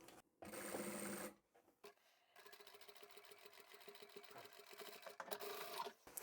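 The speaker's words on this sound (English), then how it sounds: "I'm going to sew this beside the line that I've drawn." A sewing machine stitching a crossbody bag, with a short run of stitching, a pause, then a longer steady burst of rapid needle chatter close by, fairly quiet overall with no talk.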